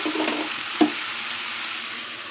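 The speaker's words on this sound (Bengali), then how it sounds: "এবার ঢেকে ঢেকে কচুলতিটা ভেজে নেব" Taro stolons frying in a covered pan with shrimp: a continuous, even sizzle fills the background, close and moderate in level, with a single soft clack partway through and no voices.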